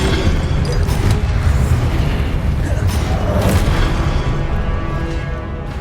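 A Repulsion spell cast in the video game Hogwarts Legacy, heard as a loud, dense booming blast with rumbling layers that hold for several seconds and slowly fade.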